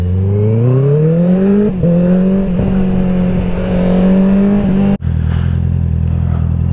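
A Honda CBR650R motorcycle accelerating hard on the road, its engine note climbing steadily through the gears with brief dips at shifts, loud and close throughout before an abrupt cut to a lower, rougher drone.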